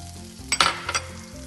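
Ginger hits hot oil in a pan while cooking Indo-Chinese Szechuan chicken, giving a close, loud sizzle with two sharp bursts and stirring over a steady frying hiss.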